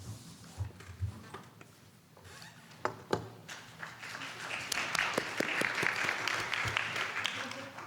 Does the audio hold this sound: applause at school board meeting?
yes